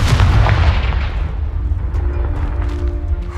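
A Confringo spell blast from the Hogwarts Legacy video game booms out loud and close at the start, then rumbles and decays with a lingering low tail.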